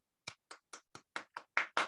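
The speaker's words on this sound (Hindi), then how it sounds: "हम सभी के भगवान मिस्टर महिपाल सिंह सर के लिए एक बार जबरदस्त तालियां।" Hand claps for a mentor at a training event, eight separate claps in a slow, steady rhythm growing slightly louder toward the end, close and clear with no talk.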